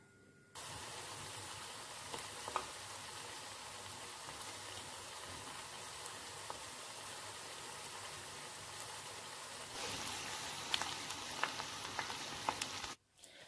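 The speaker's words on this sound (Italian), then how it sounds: "E siamo pronti per friggere il nostro cavolfiore." Battered cauliflower crackles and sizzles steadily in hot oil, a continuous bright frying hiss that grows slightly busier near the end, with no talking.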